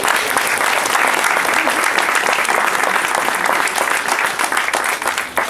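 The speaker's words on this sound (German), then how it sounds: "Einmal Applaus für mein Team." At the opening of a sport studio, a crowd gives loud, sustained applause for the studio team, a thick, close wall of clapping from many hands that continues evenly with only a slight dip near the end.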